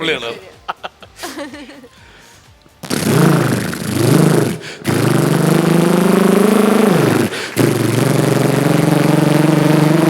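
A man imitates a Bullet motorcycle engine with his voice, starting with a few sputtering starts and chuckles, then a loud, steady rhythmic thumping idle that pauses briefly and resumes.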